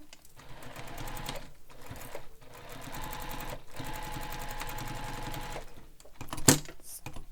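A sewing machine runs in several short bursts of rapid, close stitching, briefly stopping and restarting as it back stitches the start and end of a seam on bag fabric, with a sharper clunk near the end.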